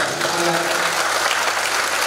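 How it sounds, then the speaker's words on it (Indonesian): Loud, dense applause fills a parenting seminar hall, a continuous roar of many hands clapping at once with an indistinct voice briefly audible over it at the start. "Tepuk tangan untuk kita."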